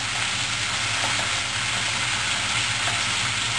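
Spareribs and vegetables sizzle and crackle in a hot wok as they are stir-fried together, a steady close frying hiss with faint scraping from stirring, no voices.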